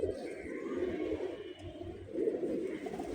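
A pair of army pigeons coo softly in low, throaty repeated phrases, fairly faint and close, with no talk over them.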